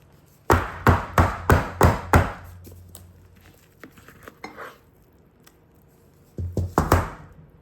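Soap mixture in a loaf pan tapped down on a counter: a burst of five sharp hollow knocks in quick even rhythm, a quiet stretch of faint scraping, then another short cluster of knocks, fairly close.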